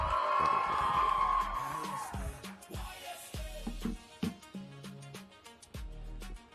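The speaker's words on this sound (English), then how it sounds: "One more time, young scientists, round of applause for Janet!" A crowd at Kenya's national science and technology exhibition cheers and whoops for a young scientist. The cheering is loud and sustained at first, then fades within about two seconds, after which amplified talk and scattered crowd noise continue.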